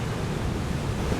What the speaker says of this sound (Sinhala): මේ මුහුද.